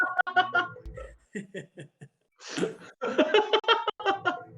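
A single sneeze from someone nearby, short and fairly loud, set among quiet laughter and chuckling with brief pauses between.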